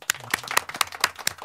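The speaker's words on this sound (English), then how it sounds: "So round of applause for Jazzy Jeff" Sharp, evenly spaced claps ring out in a quick steady rhythm, about four per second, close and loud with nothing else behind them, as a studio audience gives a round of applause during a hip hop radio show.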